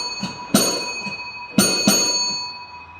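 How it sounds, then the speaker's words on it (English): A metal bell on a vintage tram at a display is struck by a pull cord, giving sharp, ringing dings in quick pairs that decay with sustained overtones between strokes. "if you pull on it, it will just punch that metal bell"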